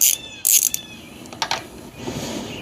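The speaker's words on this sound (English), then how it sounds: "Crack off these 8mm bolts." A ratchet works loose 8mm bolts on a 2020 Honda Grom motorcycle, giving a few close, sharp clicking bursts separated by short pauses, with no one talking.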